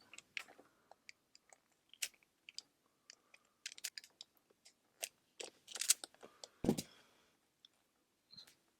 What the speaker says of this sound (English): I'm going to cut myself off a bit of heat shrink with the world's bluntest scissors